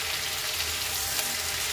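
Chopped eggplant frying with onion in a hot pan gives a steady, even sizzle that stays constant and close throughout, with no voices over it.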